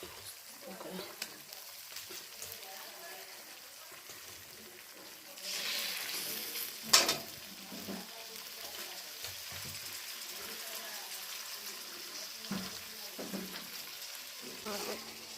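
Hilsa fish pieces laid into hot oil in a frying pan set off a sudden loud sizzling burst that settles into a quieter, steady crackle, heard close with occasional soft knocks.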